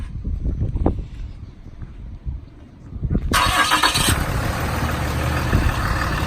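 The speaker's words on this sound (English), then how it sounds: "start the truck up. You can listen to it run." A 2012 Dodge Ram 5500 bucket truck with a 6.7-liter Cummins turbo diesel cranks and fires up about halfway through, settling into a loud, steady idle after some quieter handling noises.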